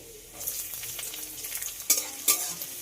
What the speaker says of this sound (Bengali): পেঁয়াজটা একটু হালকা ব্রাউন করে ভেজে নিতে হবে।